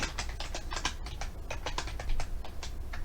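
Rapid keystrokes on a computer keyboard click in an uneven rhythm over a low background hum, steady and close for about three seconds.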